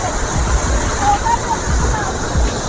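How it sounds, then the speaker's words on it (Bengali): Sanaghagra waterfall in Keonjhar pours with a steady, full roar of rushing water during the monsoon, loud and continuous, with faint voices mixed in beneath the torrent. "এখন রয়েছি আমরা সানাঘাগরা ওয়াটারফল।"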